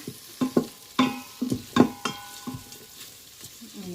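Onion added to hot garlic in a pan for a Filipino-style ubad and mung bean dish sizzles while being stirred, with repeated sharp scraping strokes in an uneven rhythm, close and moderately loud, no talking.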